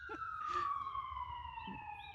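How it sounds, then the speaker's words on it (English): A siren from an ambulance passing outside, one long wailing tone sliding slowly downward in pitch, moderately distant, with faint street noise and brief background voices. "Oh no, good, that was an ambulance."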